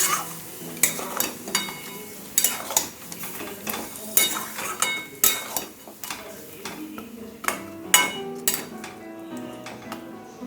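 Biryani masala paste being stirred in a pot, with a ladle scraping and clinking against the metal in irregular strokes over a soft, quiet sizzle.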